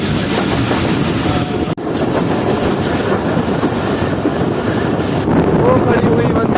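The Jaffer Express runs along a single-line track during a crossing, with a loud, continuous rumble and rattle, wind buffeting the microphone, a brief dropout and a surge in noise near the end.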